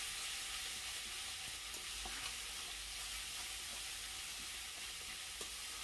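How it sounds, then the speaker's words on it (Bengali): Cumin and ginger paste masala fries in a pan, a soft, steady sizzle with faint spatula stirring taps throughout, close but fairly quiet, no talking. "এবার আমি মশলাটাকে ভালো করে কষাবো"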